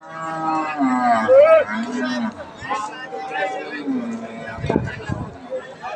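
Cattle lowing at a busy Bangladeshi cattle market, among farm-raised cows including a pregnant Holstein Friesian, with a couple of drawn-out moos under steady nearby talk and crowd chatter.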